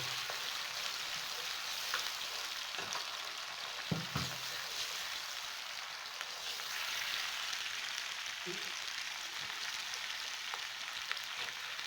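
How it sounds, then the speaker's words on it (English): White beans and yam frying together in a pan, a soft continuous sizzle with a few scattered stirring knocks, fairly quiet and steady with no talking. "Fry them together."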